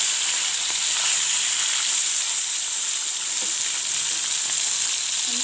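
Bata fish frying in hot mustard oil gives a steady, continuous sizzle that crackles throughout at an even level, with no voices.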